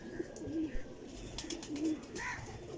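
Female pigeon cooing, a few soft, low coos at close range over a quiet, slightly noisy background, with no voices.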